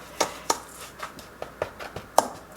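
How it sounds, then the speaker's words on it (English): Cinnamon and brown sugar filling mixed in a bowl, a series of close, uneven clicks and scrapes from the utensil, about nine sharp strokes over a few seconds. "Mix that up a little bit."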